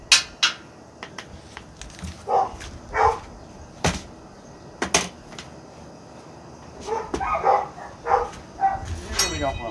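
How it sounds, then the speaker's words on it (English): Dogs bark in a few scattered bursts, some distant and some nearer, amid kitchen clatter of pans and utensils while someone prepares beef tallow smash burgers on a griddle. "Obviously the dogs are barking at something."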